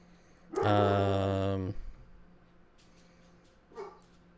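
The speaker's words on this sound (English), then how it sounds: "This dog, I swear, it's too much. Too much barking." A dog lets out one long, loud, drawn-out bark-howl nearby, followed by quieter shuffling and a short second yelp.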